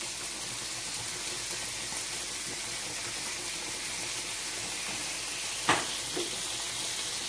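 King prawns and aromatic lemon frying in a pan: a steady, loud, close sizzle with a brief sharp crackle and spit near the end.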